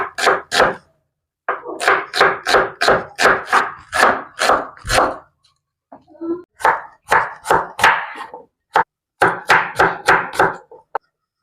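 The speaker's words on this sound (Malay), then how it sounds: "Saya potong bawang untuk sambal dengan kari." Rapid, steady knife chopping of onions on a board, bursts of quick rhythmic thuds with short pauses between runs, close and clear with no talking.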